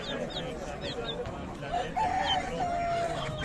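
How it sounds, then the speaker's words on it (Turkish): A rooster crows once, a drawn-out call rising and trailing off, amid a busy poultry market in Kırıkkale, Turkey, with chirping birds and murmuring voices nearby. "Şu horoz, bu da tavuk, şu da horoz."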